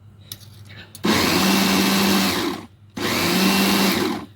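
A blender whirs loudly, blending molokhia leaves with baking soda, in two steady bursts with a short pause between them, close and with no talk over it.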